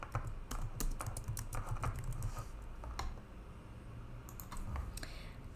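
Someone types on a computer keyboard in quick, uneven bursts of close, crisp keystrokes. There is a short pause before the typing resumes, and no one speaks.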